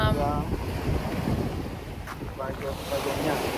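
Strong wind gusting across Vagionia beach on Poros, a closed cove facing the wind, roaring steadily into the microphone with sea surf churning underneath, loud and continuous with no talk.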